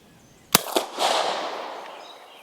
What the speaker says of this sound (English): I'm just going to try to test fire a few of these cartridges